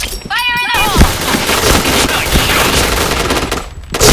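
Rapid bursts of automatic gunfire in a shooting video game, loud and close, rattling almost continuously with brief pauses and a short tonal game sound at the start.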